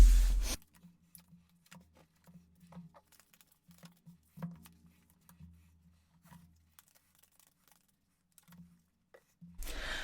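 Tarot cards are pulled, shuffled and handled in sped-up fashion, making faint, scattered soft rubs and flicks with quiet taps over near silence, bracketed by louder bursts at the start and finish.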